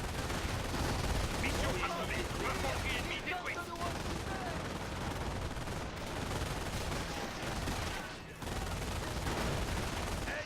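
Dense machine gun fire from the World War II strategy game Company of Heroes, a continuous loud chatter of bursts layered with other gunfire and battle noise throughout.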